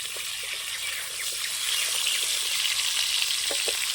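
Mixed vegetables frying gently in a pan make a steady, bright, hissing sizzle with faint scattered pops, close and even throughout, without stirring or voices.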